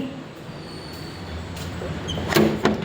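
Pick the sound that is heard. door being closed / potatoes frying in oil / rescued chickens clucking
door being closed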